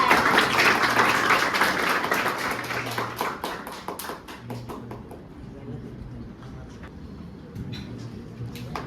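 Loud applause from the audience at a coaching class event, brisk clapping that peaks early, then thins to scattered claps before swelling slightly again.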